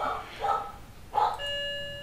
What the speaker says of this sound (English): I apologize for the doorbell there and the subsequent dog barking